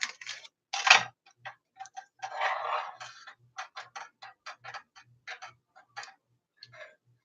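Repeated crisp snips of dull scissors cutting, close and clear, in an uneven rhythm with a faint ticking click under each cut.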